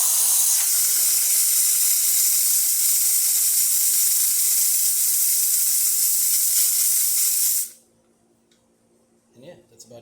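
A loud, steady steam hiss from a Rocket Appartamento espresso machine's steam wand blasts for several seconds, then cuts off abruptly, leaving near silence and a faint clunk.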